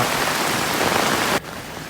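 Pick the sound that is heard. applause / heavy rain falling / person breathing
heavy rain falling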